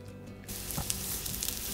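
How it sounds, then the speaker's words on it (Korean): Ginseng frying in an oiled pan over medium heat, giving a steady, close hiss and sizzle that swells after a brief quieter start, with a few soft pops. "달궈진 팬에 기름을 두르고 중불에서 인삼을 구워줄게요."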